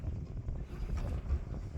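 Low, rumbling wind buffeting the microphone, steady and fairly soft, with no voices.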